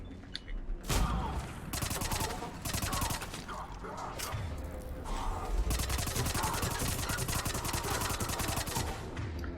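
SMG gunfire in Mass Effect Legendary Edition, fired in rapid, steady bursts that run almost without pause, loud and close, with heavy kickback crackle and occasional mechanical clatter between volleys.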